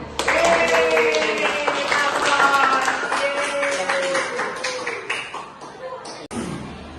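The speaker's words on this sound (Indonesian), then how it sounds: "tepuk tangan buat Hayadina." Clapping from a group rises over a voice talking during a classroom science demonstration, a brisk patter of hands that carries on for several seconds before fading out.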